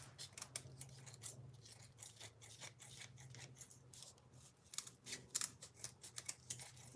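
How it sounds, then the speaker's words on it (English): Repeated crisp snipping of kitchen scissors cutting produce, a quick irregular series of close, faint cuts with rustling between them. "And please use kitchen scissors."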